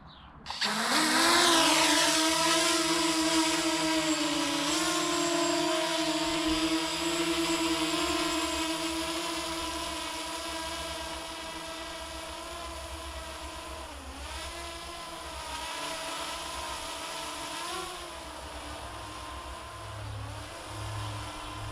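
Small quadcopter drone, a DJI Mavic Air or Yuneec Breeze, whining steadily in flight after spinning up sharply at the start; the tonal rotor hum holds close and loud for over twenty seconds with slight pitch dips.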